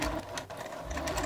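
A sewing machine stitches across a fat-quarter tote bag near the zipper in quick, even bursts, a rapid mechanical chatter heard up close and fairly quiet.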